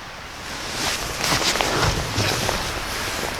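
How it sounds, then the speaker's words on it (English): Wind blowing across a snowy winter mountainside, a steady broadband rush with gusts swelling and fading, close and fairly loud, with a faint voice underneath. "If I'm not facing the wind"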